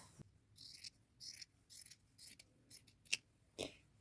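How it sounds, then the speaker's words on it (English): Scissors snipping the collar off an old cover-up garment, a series of short crisp cuts in irregular bursts, close and fairly quiet against a hushed room. "Now I want to cut this collar off."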